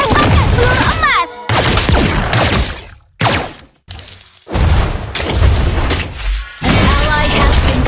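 Layla's golden bullet shots in the Mobile Legends mobile game, dense loud bursts of rapid gunfire and booming impacts in a fast battle, broken by brief gaps, with game voice lines mixed in.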